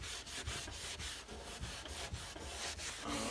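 Steady scrubbing across kitchen cabinet surfaces during cleaning before refinishing, a continuous abrasive rubbing with rhythmic strokes roughly every quarter second, close and moderately loud with no talking.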